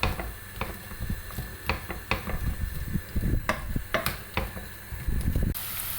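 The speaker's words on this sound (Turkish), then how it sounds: "Soğanlarımı güzelce kavuracağım." Onions sautéing in a couple of spoonfuls of olive oil in a pan, heard as a soft steady sizzle under frequent clinks and scrapes of a utensil stirring against the pan.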